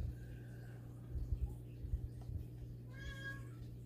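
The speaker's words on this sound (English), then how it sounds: "You're a deprived kitty, I know." A pet cat meows indoors, a drawn-out call near the start and a clearer harmonic meow about three seconds in, heard close over a steady low hum and some handling thumps.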